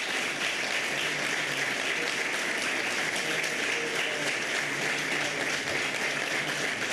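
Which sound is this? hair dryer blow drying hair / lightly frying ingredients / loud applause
loud applause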